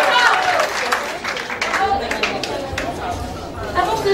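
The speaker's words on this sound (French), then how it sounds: "Vos applaudissements." Students and spectators applaud at a school inter-class debate final. Continuous clapping blends with crowd chatter and lively hubbub throughout.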